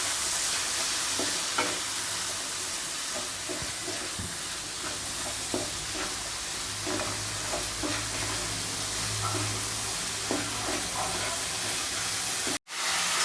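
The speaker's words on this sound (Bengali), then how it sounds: "এবার এই চিংড়ি মাছটাকেও আমি ভেজে নেব ভালোভাবে" Shrimp frying in a pan with turmeric and salt, a constant close hiss of sizzling oil with faint crackles and occasional utensil stirring, steady throughout until a sharp click near the end.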